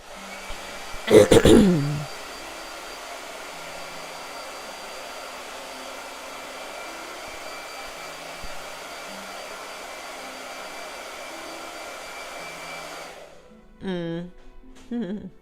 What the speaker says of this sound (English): Blow dryer.